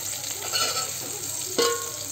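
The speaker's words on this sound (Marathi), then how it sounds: "आता आपण त्यात आलं लसणाची पेस्ट टाकून घेऊया" Ginger-garlic paste fries with roasted tomato and onion in a pan for dal, a brief close sizzle with a sharper spatter and scrape near the end, no talking.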